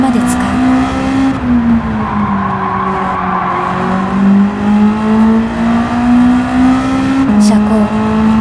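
A Honda Civic Type R EK9 races in Gran Turismo 7 at Blue Moon Bay, its high-revving engine holding a steady loud whine with shifts and tire squeal, under narration.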